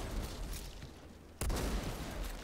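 Gunfire in the sci-fi shooter video game Outriders: a sharp, loud shot bursts out mid-way over a constant rushing, noisy backdrop of combat ambience.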